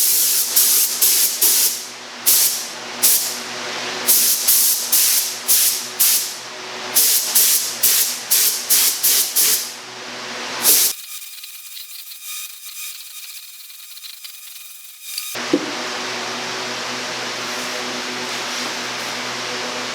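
A spray gun paints a 3D-printed Dark Trooper helmet, loud hissing bursts repeating in a quick steady rhythm, then a pause and a long continuous hiss of spray close up, with no talk.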